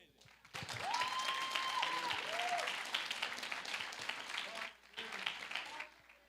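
A church congregation applauds together at a testimony gathering, steady clapping from a crowd filling the room, briefly dipping then resuming, with voices mixed in.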